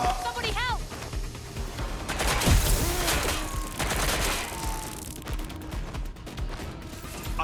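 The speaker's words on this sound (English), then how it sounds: "Shots fired!" Rapid gunfire crackles through a Watch Dogs Legion firefight, dense bursts of shots and impacts running almost continuously, loud and close, with voices calling out amid the shooting.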